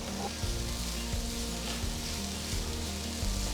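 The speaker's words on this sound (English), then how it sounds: "After sauteing the onions for about 2 minutes," About five large, thinly sliced onions sauté in a pot for a mutton donne biryani, giving a quiet, continuous sizzle with a low background hum and a few faint stirring knocks.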